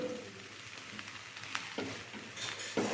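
Fried rice sizzles in a pan while being stirred, a continuous frying hiss broken by a few scraping stirs and clatters of the spatula, close and moderately quiet.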